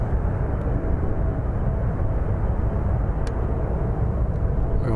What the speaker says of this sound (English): let's catch this plane as it departs for LAX.